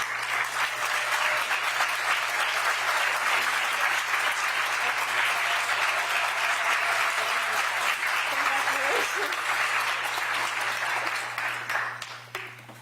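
Sustained audience applause at a teachers' awards ceremony, dense and loud clapping that carries on evenly before tapering off near the end as a voice begins.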